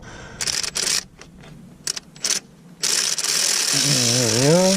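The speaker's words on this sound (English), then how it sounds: "Put my tool on. Tightening mode." A power tool in tightening mode drives a bolt on a Kubota BX1860 tractor during a tune-up. It gives short ratcheting bursts followed by a longer sustained whir that rises in pitch, close and fairly loud.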